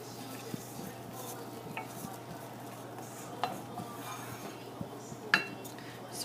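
Gravy thickened with flour stirred in a pan on the stove, faint scraping and scattered clinks of a utensil against the pan over a soft sizzle and low hum, with a few sharper knocks.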